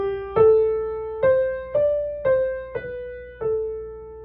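The Easter plainchant tune Victimae Paschali Laudes, heard as a short melodic fragment of six or so sustained, organ-like pitched notes, each with a clear attack, moving stepwise and played alone without any voices.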